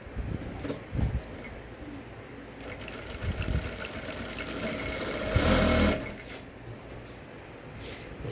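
A sewing machine stitches the sleeves of an Ankara top, running in steady mid-level bursts with a louder, denser stretch near the end and soft handling noises between runs.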